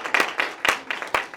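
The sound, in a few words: audience applause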